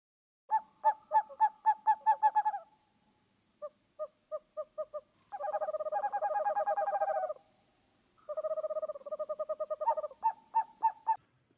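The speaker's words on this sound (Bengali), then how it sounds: "পেঁচার আওয়াজকে অকল্যাণের সুর বলা হয়" An owl calls alone in clear bursts: quick runs of sharp hoots, then longer rapid trilling phrases, then more spaced hoots, all moderately loud with silence between the bouts.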